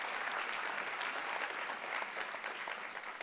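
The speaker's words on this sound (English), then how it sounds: "An applause for you." Guests at a mentoring gala applaud in a continuous, even roar of clapping that sounds fairly distant and soft.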